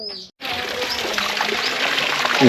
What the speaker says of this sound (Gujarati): નળમાં આવી ગયું છે પાણી